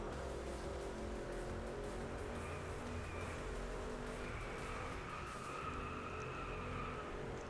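Cars race in the video game Driveclub, a continuous engine drone at low volume with faint higher tire tones rising and falling, no talk.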